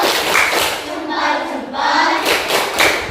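A group of schoolchildren clapping a rhythmic cheer together in a classroom, with bursts of hand claps and children's voices mixed in.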